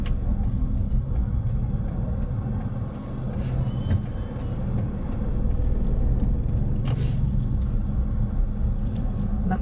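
Road traffic heard from inside a moving vehicle: a constant low engine and road rumble with passing buses or trucks and a brief brake hiss, fairly loud and unbroken, with no talking.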